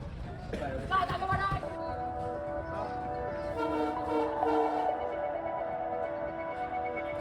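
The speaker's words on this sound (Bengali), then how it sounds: "ট্রেনে ওঠার কিছুক্ষণ পর আমাদের ট্রেন ছেড়ে দিয়েছে।" A passenger train runs along the line after departing, its steady rumble and rhythmic clatter heard from inside the carriage, with voices talking over it and a tonal horn-like hum.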